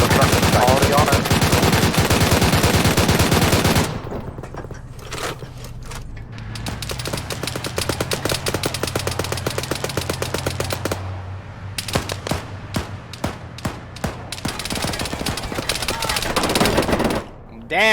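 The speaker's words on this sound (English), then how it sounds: "that fucking minigun just tore me to shreds" Minigun fire in a military combat video game: a long, dense roar of continuous rapid shots up close, then scattered bursts and single cracks of gunfire with a lower rumble underneath.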